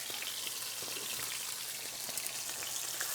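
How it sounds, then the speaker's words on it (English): Bulgogi, beef in a sugary marinade, sizzles and splatters steadily in a hot pan. A dense, even hiss of frying keeps going the whole time, crackling like rain, with no voices. "there is some liquid in there, so it's going to have a little bit of splattering"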